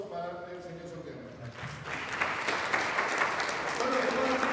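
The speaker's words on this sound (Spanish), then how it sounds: "Un aplauso para el señor Soriano." An audience at a political event in La Paz breaks into applause for a municipal councillor, swelling from a quieter start with a voice into steady clapping that holds to the end.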